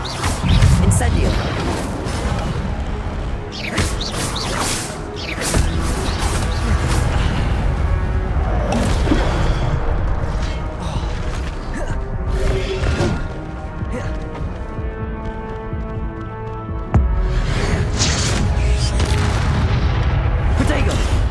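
Fiery spell blasts from the Incendio charm in the game Hogwarts Legacy, a series of loud booming bursts and crackles over a dense, continuous game soundscape, with a voice speaking at times.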